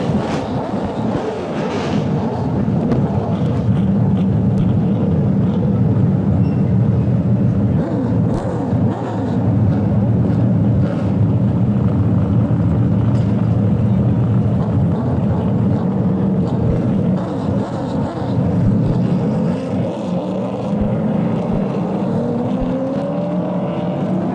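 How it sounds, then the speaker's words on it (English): Late model race car engines fire and rumble together at a short-track feature, a loud, steady drone that holds throughout with revs rising near the end. "Gentlemen, start your engines."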